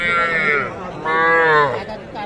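Two drawn-out moos from young heifer and bull calves at a cattle market in Dinajpur, Bangladesh, close and loud, one after the other with a short pause between them.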